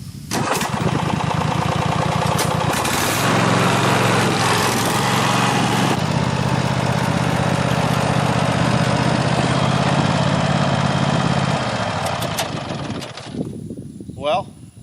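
A Husqvarna Z-54 riding mower engine cranks, catches and runs at a loud, steady mid-pitched drone close by, then drops off near the end; voices are not evident over the engine.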